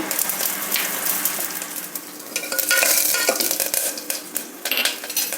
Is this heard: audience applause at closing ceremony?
no